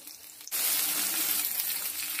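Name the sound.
pointed gourd (potol) frying in oil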